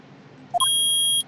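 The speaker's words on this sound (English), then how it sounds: "Beep." Electronic beeps from the Ace Attorney video game: two short rising blips followed by a sustained high steady tone lasting about half a second, clean and close with no talk.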